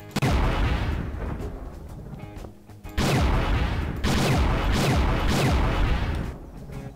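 Gunfire in the sandbox game Garry's Mod: a few loud, booming shots with long echoing tails, set against a dense, noisy background with no talking.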